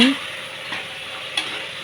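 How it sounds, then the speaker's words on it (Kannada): Pigeon peas with fenugreek leaves frying in a pan for methi bath, a steady close sizzle with a stirring scrape and a couple of light utensil clicks. "ನೀಟಾಗಿ ಇವಾಗ ಇದನ್ನು ಕೂಡ ಫ್ರೈ ಮಾಡ್ಕೊಳ್ಳೋಣ"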